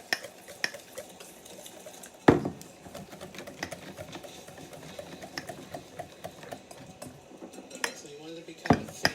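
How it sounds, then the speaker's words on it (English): Ceramic glaze being stirred in a bowl until smooth, with steady scraping and tapping strokes and a few sharper knocks against the side, close and moderately loud. "We'll mix this until it's very smooth."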